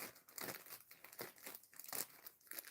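A plastic bag holding plant containers crinkles and rustles softly and close up, in repeated rhythmic bursts of crackling with no voices.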